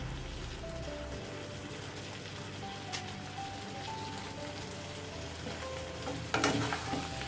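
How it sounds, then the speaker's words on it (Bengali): Bottle gourd and chicken sizzle with salt in a pan, a steady close frying hiss with soft stirring scrapes and a louder clatter near the end. "লবণ দিয়ে এটাকে ভালো করে নেড়ে চেড়ে নিচ্ছি।"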